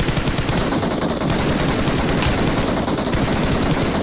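Rapid automatic gunfire from a mobile battle royale shooting game fills the scene, dense and loud, with continuous bursts of shots layered over one another and no talking.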